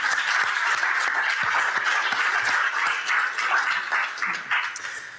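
Audience applause fills a Juneteenth celebration honoring Black music after a jazz violin performance, as dense sustained clapping from a crowd that thins slightly toward the end.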